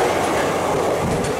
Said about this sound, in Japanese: いや、まさかこの列車が奥駅を通過する光景を生で見るとは思いませんでした。